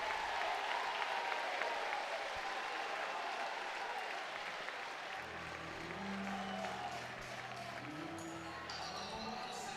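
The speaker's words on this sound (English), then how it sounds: "And that's a resounding applause" Baseball fans applaud at PK Park after a base hit, a broad steady wash of crowd clapping and cheering at a distance, with a low hum and a commentator's voice joining partway through.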